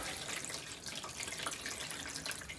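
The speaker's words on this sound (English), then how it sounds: "And I will end up putting most of this gallon of water in here." A gallon jug of water poured into a seedling tray for bottom watering: a steady, close splashing pour running without pause, with no talk.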